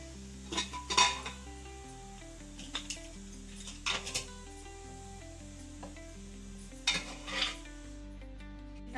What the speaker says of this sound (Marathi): मी आता भाजीला फोडणी करून घेते मटणाला